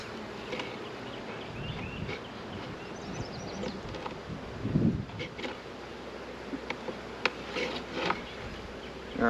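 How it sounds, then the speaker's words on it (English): Bees buzz steadily around an opened backyard hive being worked slowly, a dense close hum with occasional individual bees passing near, and someone talking quietly now and then. "Go really slow so I don't tick off the bees."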